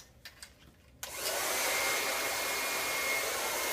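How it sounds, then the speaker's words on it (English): A powerful hair dryer with a directional nozzle switches on after a second of faint handling noise, then blows a steady, loud, broad airy roar with a thin whine running through it. "this is a new dryer that I have that's very powerful, as well as a directional nozzle"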